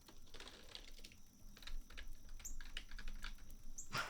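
Steady typing on a fancy gamer keyboard, a run of crisp, close key clicks with slightly uneven rhythm and a few sharper clacks near the end, fairly quiet with no talking.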